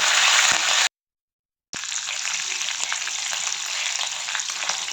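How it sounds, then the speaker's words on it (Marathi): Green chillies cut into long strips sizzle in hot tempering oil for rava dhokla, a steady close frying hiss that breaks off for a moment of silence before resuming. "त्यामध्ये मी लांब लांब आकारामध्ये चिरलेली हिरवी मिरची घातली"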